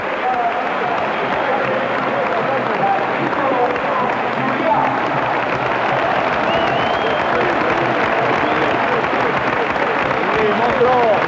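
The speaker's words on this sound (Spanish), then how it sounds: "El aplauso del graderío atronador para el jugador zaragocista." Thunderous stadium crowd applauding a Real Zaragoza player during a football match, a dense, steady roar of clapping and cheering sustained throughout with no break.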